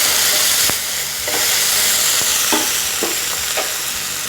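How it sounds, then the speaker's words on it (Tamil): Tomato and onion for semiya biryani fry in a pan with a loud, continuous sizzle, while a spoon stirs them in a series of scraping strokes. "அதை நல்லா வதக்கி விடுங்க."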